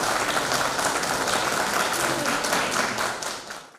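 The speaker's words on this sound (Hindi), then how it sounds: "इस मौके पर समूचा डाकघर कार्यालय तालियों की गड़गड़ाहट से" Dense, loud applause fills a post office during the unveiling of a commemorative postal cover and cancellation stamp, a steady roar of many hands that fades out at the end.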